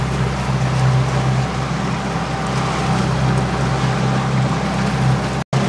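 A rental motorboat cruises on the Main river, its engine a steady low drone with a constant rush of water and wind throughout, cutting out for an instant near the end.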